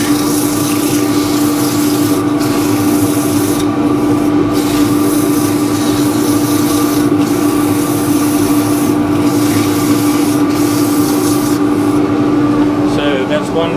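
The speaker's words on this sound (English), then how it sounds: "I'm going to sand this out with, you do the inside, a bit of old 120" The inside of a turned wooden scoop is sanded with 120 grit sandpaper, a continuous loud rubbing rasp with a steady lathe hum beneath it.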